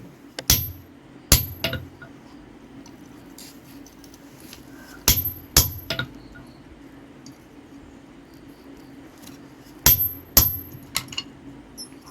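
Sharp metallic strikes of a blacksmith driving a chisel through an old knife blade in a Kerala forge, paired hammer blows repeated in three spaced clusters, close and ringing, with quiet gaps between.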